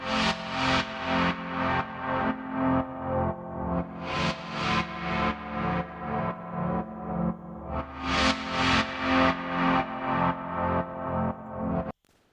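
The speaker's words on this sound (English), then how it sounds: "I can duck my reverb sound." A reverb-heavy synth sound in Magix Music Maker 2016, ducked by a sidechain so it swells and cuts in a steady pumping rhythm, loud and alone, with distorted sustained chords pulsing about twice a second before stopping abruptly.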